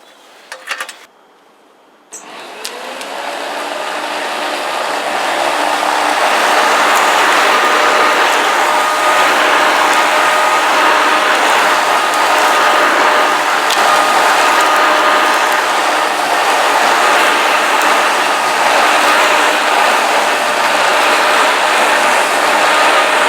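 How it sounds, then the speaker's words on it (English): A Flymo Hover Vac 280 electric hover lawn mower starts after a brief pause, then runs with a steady, loud whir that stays constant for about twenty seconds. "So this is a Flymo Hover Vac"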